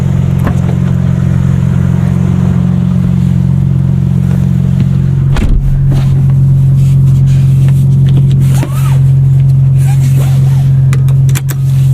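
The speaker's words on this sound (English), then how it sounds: "Alright, let's go drive it." Engine of a Riviera Blue BMW M4 CS being driven, a loud steady drone with a shift in pitch partway through and occasional bumps, heard from inside the car.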